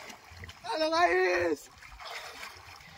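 Water splashes and sloshes from someone swimming, a fairly close wash of churning noise that swells after a voice calls out, with people talking over the start.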